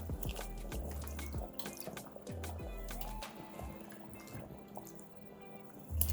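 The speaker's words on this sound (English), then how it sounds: "I'm just gonna wash these and just drop them in the pot." Potatoes washed under a running kitchen tap, with water splashing and dripping and occasional knocks of potatoes against the sink, close and fairly quiet.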